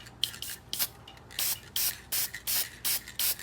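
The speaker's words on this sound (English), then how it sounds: "So I'm going to hit them with a little bit of lacquer" Clear lacquer is sprayed from an aerosol can onto small plain steel parts from a circa-1910 US automatic pencil sharpener, in about seven short hissing bursts separated by brief pauses, close and clear.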